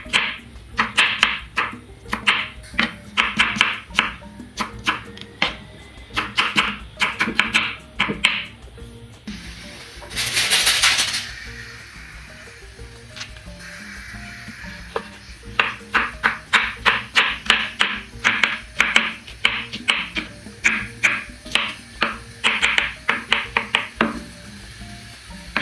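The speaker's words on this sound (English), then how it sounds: "Cut your onion anyhow it works for you." A knife chops onion on a cutting board in quick, close bursts of sharp taps, with a pause and a brief hiss midway before the rhythmic chopping resumes.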